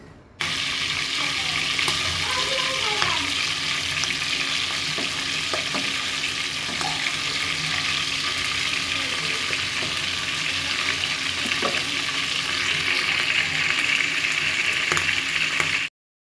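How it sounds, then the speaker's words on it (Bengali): Onions fry in oil with cinnamon and cardamom in a pan at home, giving a dense, continuous close sizzle that holds steady throughout. A few faint stirring scrapes sit under the frying, with no talk. "এই যે এখানে পেঁয়াজ কষাচ্ছি তার আগে আমি একটু দারচিনি আর এলাচ দিয়ে দিয়েছি"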